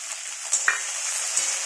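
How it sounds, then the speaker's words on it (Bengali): Onion and capsicum fry together in a pan, giving a steady, soft sizzle throughout with a few brief clinks or stirring taps, close by and with no talking. "পেঁয়াজ আর ক্যাপসিকাম একসাথে ভাজা হয়ে যাবে ভালো করে।"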